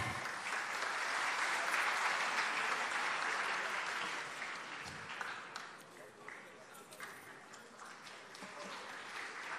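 Loud audience applause for guests on stage at a sports promotion event, a thick sustained wash of clapping that swells early and then gradually thins and fades.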